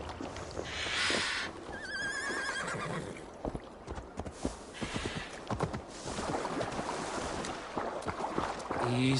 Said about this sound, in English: Your horse is a little unsettled, but safe.